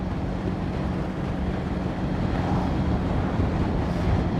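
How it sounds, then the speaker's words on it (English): Steady, loud wind buffeting the microphone while riding a light motorcycle through the Malvern Hills, a continuous low roar with engine drone beneath and no talk. "Oh, side wind. Yeah, you feel it more on the lighter bike,"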